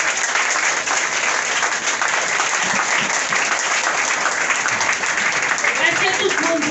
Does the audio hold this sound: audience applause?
yes